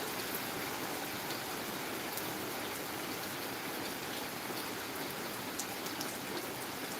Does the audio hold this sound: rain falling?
yes